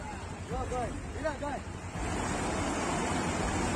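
Floodwater rushing after heavy rain, a continuous loud, broadband roar of fast-flowing water that grows stronger midway, with a voice talking over the water.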